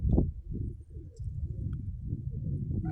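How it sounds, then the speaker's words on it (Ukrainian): Pigeons coo in low, throaty bursts close by, with a soft rolling murmur continuing through the clip beneath a brief louder coo at the start. "Ганяю голубів"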